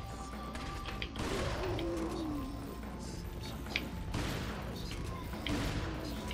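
Gunfire in Resident Evil 4 crackles in bursts of shots and impacts over a loud, continuous game soundscape with crashes and enemy grunts.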